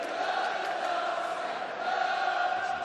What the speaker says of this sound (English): Crowd have taken it to heart. They are standing up because they do love the darts.